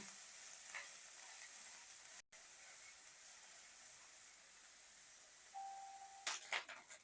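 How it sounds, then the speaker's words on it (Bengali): Small shrimp frying in hot oil in a pan, a steady quiet sizzle that carries through the clip, with a brief break and a few clinks and stirring scrapes near the end. "চিংড়িটা এখানটায় ভালো করে ভেজে নেব।"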